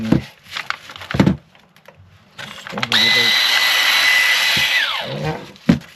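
A PATUOPRO cordless shears motor starts after a few short mechanical clicks and rattles, then runs as a loud, steady whine with a tone that drops as it spins down, close to the listener.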